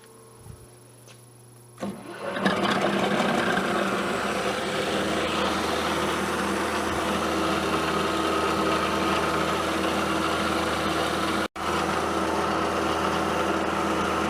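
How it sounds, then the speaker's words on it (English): A milling machine drilling through holes in a column spins up after a quiet start and runs at a steady, loud mechanical whir with a high cutting whine, briefly cutting out near the end. "I'm just going to drill through holes on this column, and then we've got to countersink"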